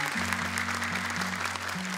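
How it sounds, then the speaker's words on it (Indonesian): A studio audience applauding at a televised Quran recitation competition, steady broadband clapping held for a couple of seconds under sustained low musical tones, with no clear speech. "tepuk tangan buat Abi"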